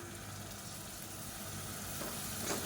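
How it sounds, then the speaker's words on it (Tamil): Curd and tomato cook in ghee for carrot biryani, making a faint, even sizzle with soft stirring scrapes, quiet and steady, with no talking. "இப்போ தயிர் சேர்த்துட்டு நல்லா எண்ணெய் பிரிஞ்சு வரட்டும் தொக்கு மாதிரி வரணும்"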